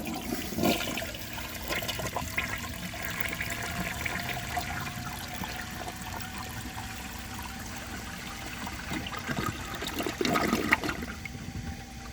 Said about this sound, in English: So I will show you guys a flush